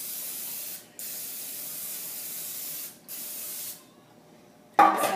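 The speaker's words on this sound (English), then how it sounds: "And I'm going to spray this one." Nonstick cooking spray hisses onto a muffin tin in two sustained bursts, each about two seconds long with a short pause between, close and clear, followed by a brief clatter.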